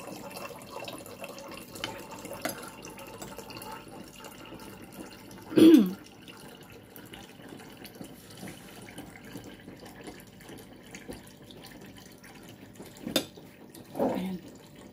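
Water runs faintly from a tap in the background, with a few louder clunks and splashes as something is filled.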